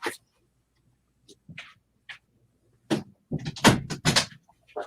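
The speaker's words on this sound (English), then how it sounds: "my dog opened my door." A dog pushing open a room door indoors: several short, quiet knocks and rattles, then louder clattering bumps near the end, with a few faint higher sounds that may be the dog.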